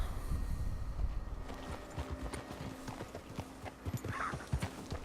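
In Red Dead Redemption 2, a horse's hooves clip-clop in an irregular walking rhythm at moderate volume, with faint background noise.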